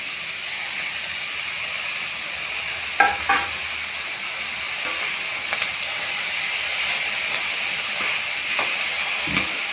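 Ridge gourd tossed in with onions in a pan, a steady broad sizzle and hiss of frying with a few clattering stirs and scrapes, no talking.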